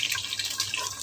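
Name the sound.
cashews frying in oil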